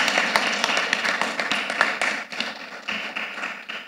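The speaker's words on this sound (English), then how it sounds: "I think we shall give them a round of applause for them" An audience at the Nigerian Breweries annual general meeting claps, a busy, fairly close crackle of many hands that stays steady with small dips for nearly four seconds.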